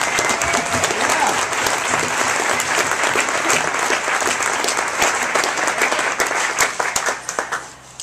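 An audience applauds to welcome a speaker, Daniel Silverman, with dense, sustained clapping from a sizeable crowd that holds steady for about seven seconds before tapering off.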